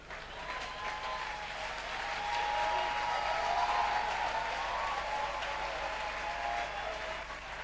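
Audience applause at a comedy show, a dense, steady clapping that swells in the middle and fills the whole stretch, with no talking over it.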